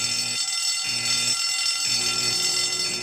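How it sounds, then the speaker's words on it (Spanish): Fire alarm in The Simpsons cartoon, a loud electronic bell clanging in repeated bursts with short gaps, steady and close, no voices. "Oye, es la alarma de incendio."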